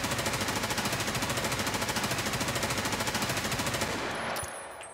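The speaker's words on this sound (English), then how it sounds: "Put a gun on full auto, that might help." Full-auto rifle fire in the video game Escape from Tarkov, a loud, fast unbroken stream of shots for about four seconds before cutting off into a brief fading tail.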